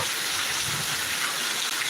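Downpour over Thiruvananthapuram, a thick unbroken roar of rain hitting surfaces, steady and loud throughout.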